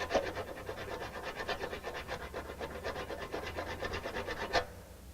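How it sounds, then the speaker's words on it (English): A metal file scrapes over a grill part being tested for aluminum, making quiet, steady back-and-forth rasping strokes in a fast even rhythm, close by and alone. "you want to file it."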